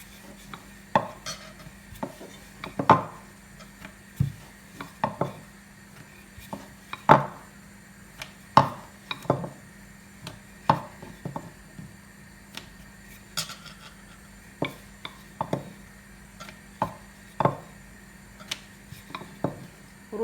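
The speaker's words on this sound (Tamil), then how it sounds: "நான் இப்போ கொஞ்சம் உருட்டி வச்சுட்டு தான் பொரிக்க போகிறேன்." Poori dough being rolled out on a board for frying, producing a series of light knocks, taps and scraping clicks at an irregular rhythm, close by and fairly quiet, with no talking.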